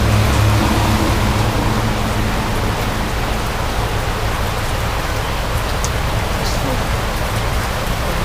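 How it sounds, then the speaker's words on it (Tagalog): Steady, dense hiss of afternoon rain falling, loud and close, continuing evenly throughout with occasional faint drips and a few murmured sounds in the background. "Maulan na hapon."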